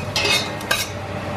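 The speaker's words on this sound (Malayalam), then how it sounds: "അതിനകത്തേക്ക് ഏലക്കായും ഗ്രാമ്പും പെരും ചീരകവും പട്ടയും കൂടെ ഇട്ട് കൊടുക്കുകയാണ്." Cardamom, cloves, fennel seeds and cinnamon drop into hot olive oil in a pan, giving two short close clinks and rustles over a steady, soft background hiss.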